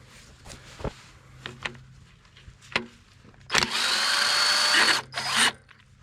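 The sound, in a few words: Snap-on impact gun removing rusty bell housing bolts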